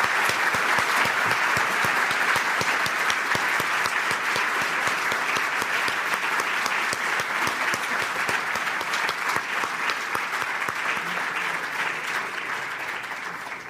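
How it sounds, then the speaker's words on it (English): Sustained audience applause fills the hall at a live talk event honoring an author, dense steady clapping from a large crowd that holds strong throughout and only begins to taper slightly near the end. "let's have a big round of applause for Malcolm Gladwell"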